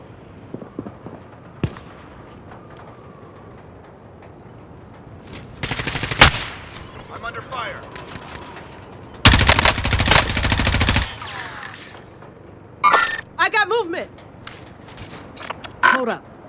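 Video game gunfire rings out in loud bursts, with a single sharp shot, a few scattered cracks, then a long sustained rattle of automatic fire and later short volleys, close and dominant.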